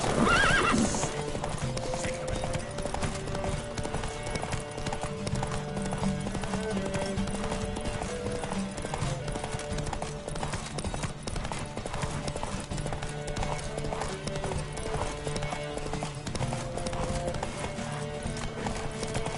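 Racing horses gallop in Witcher 3, their hooves beating in a fast, continuous rhythm while a neigh rings out near the start.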